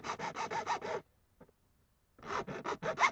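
Metal being filed to score a hobo stove pot stand: fast rhythmic rasping strokes, a burst of about six, a pause with one faint scrape, then another run of strokes, close and loud.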